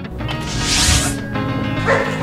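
A dog barks in a short, loud burst with a whimpering, yipping quality, heard close and alone over a busy background.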